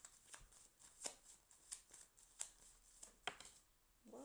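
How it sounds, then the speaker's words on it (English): Tarot cards are shuffled in a steady rhythm of crisp riffling bursts, about one every half second. The sound is close and quiet, and a short voiced sound comes at the very end. "let's just keep shuffling to shuffle one more row."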